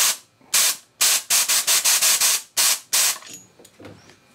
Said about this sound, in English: I'm going to take compressed air